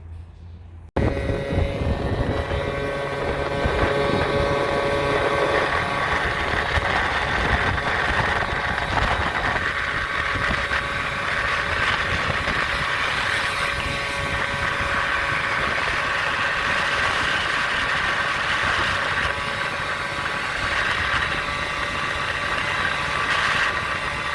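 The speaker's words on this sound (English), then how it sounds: "So I'm going to take him for a ride now and see what sort of difference we've gotten." A Piaggio Zip scooter fitted with a Malossi 70cc cylinder kit runs steadily on the street, its engine drone loud and continuous throughout with a constant road rush, no talking.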